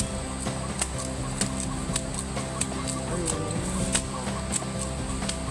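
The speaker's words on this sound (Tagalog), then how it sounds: "Manok." Several chickens call in repeated sharp clucks and honks close by, along with scattered rustling and low background noise.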